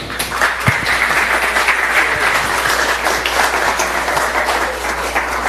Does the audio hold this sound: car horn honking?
no